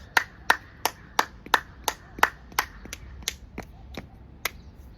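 Rapid, forceful hand clapping for acupressure, about a dozen sharp close claps in quick succession that begin tightly spaced and strong, then grow slightly irregular and softer toward the end.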